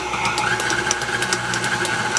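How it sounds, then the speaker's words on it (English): A KitchenAid stand mixer kneads bread dough with a steady motor hum and a rhythmic knocking of the dough hook, close and continuous with no voices. "Letting your mixer do all of the work."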